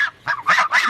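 Several loud, nasal honks from geese recently moved into a large coop, coming in four separate bursts close to the microphone with short gaps between them.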